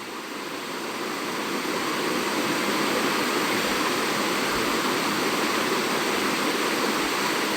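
Hot water is poured into mushroom masala in a hot pan and stirred, producing a loud, steady, broad sizzling hiss that rises quickly and then holds unbroken throughout.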